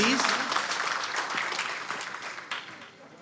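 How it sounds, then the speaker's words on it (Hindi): Audience applause for Ejaz sahib at an Urdu honouring ceremony, a dense wash of clapping that starts full and gradually thins and fades over a few seconds, with a voice faintly audible underneath. "एजाज साहब के लिए बहुत सारी तालियां बजाइए प्लीज"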